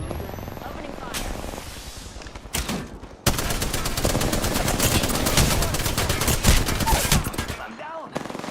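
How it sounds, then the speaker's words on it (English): Dense automatic weapon fire in Apex Legends rattles in rapid bursts, loud and close, with game voice lines and talk over parts of it. "Opening fire."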